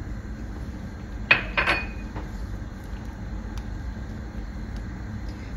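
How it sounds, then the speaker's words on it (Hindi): Crushed dry fruits go into a pot of simmering milk for falooda with a quick cluster of metallic clinks from the spoon and pot. Quiet kitchen ambience follows. "इसके अंदर अब हम डालेंगे ये जो ड्राई फ्रूट्स हमने क्रश करके रखे थे ना"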